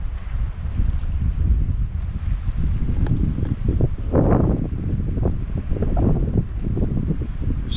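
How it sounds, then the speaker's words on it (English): Steady outdoor breeze blowing off a lake beside a parking spot, rushing continuously with gusty wind buffeting against the microphone and no talk. "There's a good breeze coming off the lake."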